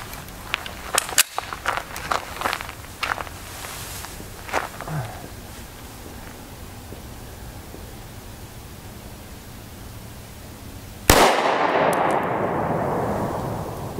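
A 5.7x28mm round is fired at a mild steel plate, a single sharp report from farther off followed by a rushing noise, with earlier scattered clicks and handling noises over a quiet background.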